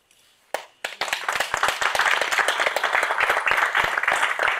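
Audience at a spiritual talk breaking into clapping, a couple of isolated claps followed by a dense, steady round of applause from a room full of people, close and lively throughout.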